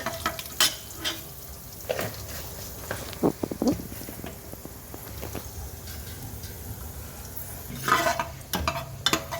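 Fenugreek seeds dropped into hot butter in a pan for dal khichdi, giving a soft, steady sizzle. Scattered clinks and scrapes of a spoon against the pot break through it, with a louder clatter near the end.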